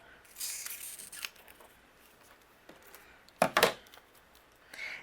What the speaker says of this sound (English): I'm going to cut some thin strips.